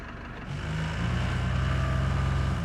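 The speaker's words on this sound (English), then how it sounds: "Sounds very diesely." A diesel truck engine in the video game Roadcraft starts up and settles into a low, rumbling idle, steady and fairly close with a throbbing tone.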